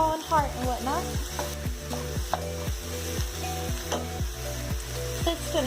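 Lean ground turkey frying in a pan while cooking a healthy pasta dish, with a steady loud sizzle and a run of repeated scraping stir strokes in a quick rhythm, close by and with no talk.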